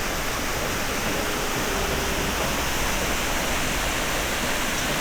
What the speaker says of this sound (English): we also stopped at the Ardessie Falls next